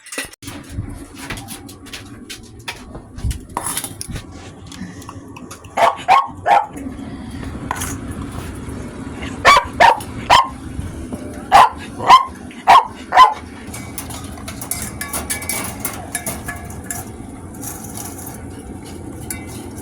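Several dogs bark in short bursts, clustered in quick pairs and triplets, over a steady background murmur; the barking comes and goes across the stretch.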